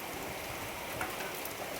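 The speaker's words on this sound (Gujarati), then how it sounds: "જો અહીંયા તો વરસાદ એવો પડે છે" Heavy rain pours steadily in a flat, dense hiss across a Gujarat neighbourhood near a pipe factory, a constant wash with no breaks and no voices.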